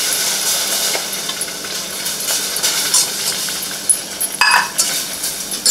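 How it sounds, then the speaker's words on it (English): Homemade enchilada sauce with canned tomato sauce bubbles and simmers in a pan, a steady soft sizzle and crackle with occasional light clinks of a whisk or utensil against the pot. "We want it to bubble and simmer, but we don't want it to splatter and make a mess."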